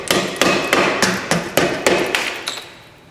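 Eight evenly spaced, sharp metallic hammer taps close by, tapping a part back on during a rear CV axle replacement on a rusty 2008 Honda CR-V, each strike ringing briefly before the next.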